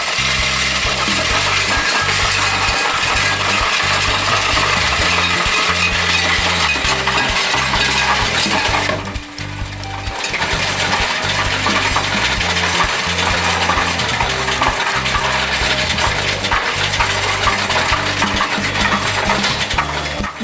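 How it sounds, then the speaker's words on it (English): A Coinstar machine counts and sorts loose coins in a continuous metallic rattle and clatter, loud and steady with a brief dip midway before resuming. "You can see the real-time sorting and counting through this monitor in front of you."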